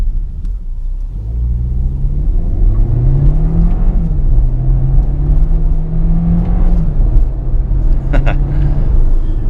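A 2019 Volkswagen Jetta SEL Premium with an 8-speed automatic pulling hard out of a quick direction change. Steady, loud interior engine drone rises in pitch, then levels off and eases down with smooth shifts, with no speech over it.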